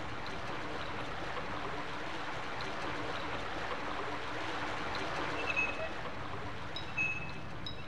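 Running water in the Silent Hill video game flows in a steady, soft, gurgling stream, moderately close, with a few faint clinks near the end and no talking.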